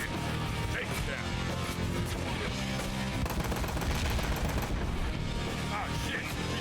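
Loud, dense gunfire in the video game Ride to Hell: Retribution, rapid bursts and shots overlapping continuously with crashes and mechanical clatter, no letup across the whole stretch.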